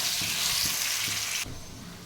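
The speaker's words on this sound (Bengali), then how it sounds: "এই আলুটাকে আমি চাপা দিয়ে ভেজে নেব।" Potatoes frying in a covered pan give a loud, steady hiss that suddenly drops to a quieter sizzle near the end.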